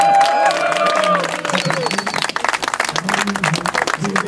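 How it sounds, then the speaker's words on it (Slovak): Applause and cheers from a crowd greet the winner of a 6-kilometre pre-New Year's Eve running race at a village pig-slaughter festival, a dense burst of clapping with voices calling over it. "Potlesk."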